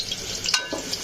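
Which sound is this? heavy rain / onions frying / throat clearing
onions frying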